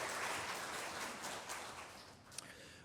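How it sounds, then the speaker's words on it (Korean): A church congregation claps in warm, dense applause that starts loud and gradually tapers off over a few seconds. "뜨겁게 한번 다시 박수할까요?"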